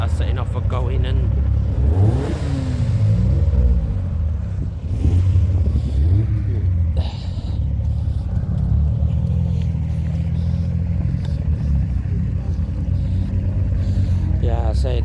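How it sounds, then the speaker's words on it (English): Modified cars, Ford and Vauxhall models among them, rumble and rev as they pull away from a car meet. The engines are close and sustained, and someone talks over them throughout. "Some cars that are setting off for going"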